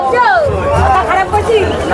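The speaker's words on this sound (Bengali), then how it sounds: "আর শুধু ভিড় দেখো, এখান থেকে পুরো লাইন হয়ে গেছে।" Dense crowd chatter and babble close by at the Thakurnagar fair, near a railway line, with a loud voice calling out over the bustle.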